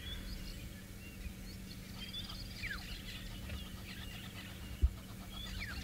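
A buffalo weaver calls from its big, messy nest in the African bush, giving faint, distant chattering and squeaky notes scattered over a quiet outdoor background, with one brief knock near the end.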